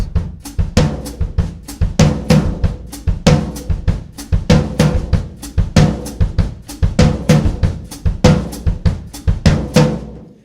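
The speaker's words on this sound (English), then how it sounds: "the halftime fill of that floor tom is going to drop in like this" A lively samba groove on drum kit with sharp, rapid strikes and booming halftime floor tom fills, playing continuously at close range.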